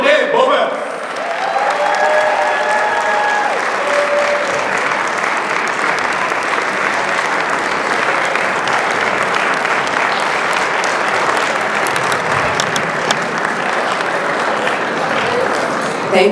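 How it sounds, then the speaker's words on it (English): Sustained applause from a gala anniversary audience giving a keynote speaker a standing ovation, dense steady clapping with crowd noise filling the whole stretch, no talk over it. "let's give a standing ovation and round of applause"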